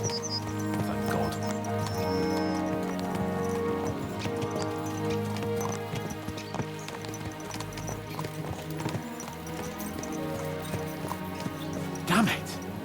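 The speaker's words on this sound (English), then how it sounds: "Let's really spur these horses on, eh?" Horses in Kingdom Come: Deliverance II clip-clop steadily on hooves at a brisk pace, close and continuous, over background music, with a brief whinny near the end.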